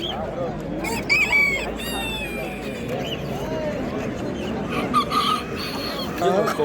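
Japanese-breed chickens and roosters at the Namangan market crow and cluck repeatedly, several loud crows rising above the busy bustle, while people talk and haggle throughout.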